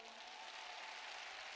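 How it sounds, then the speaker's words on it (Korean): Applause from an audience at a business motivational speech event, a dense, even patter of many clapping hands, fairly quiet and distant, with no talk over it. "한번 박수 한번 부탁드려도 될까요?"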